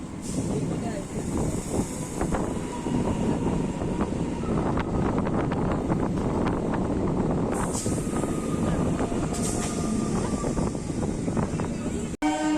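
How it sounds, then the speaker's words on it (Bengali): A loud, steady rumbling roar of a Howrah-bound local train pulling away from Rishra station, continuous throughout with wind-like rushing noise and faint mechanical whine. "আমাদের ট্রেন এই মুহূর্তে ছেড়ে বেরিয়ে যাচ্ছে"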